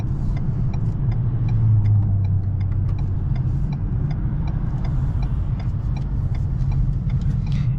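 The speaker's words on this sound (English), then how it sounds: "that 8-speed automatic transmission does shift nice and quick" A 2022 Ford Maverick with an 8-speed automatic transmission drives at night, heard from inside as a steady, close road-and-engine rumble with faint, regular ticking throughout.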